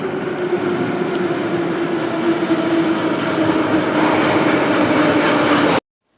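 A Baku metro train rumbles and hums steadily with a droning tone before the sound cuts off abruptly.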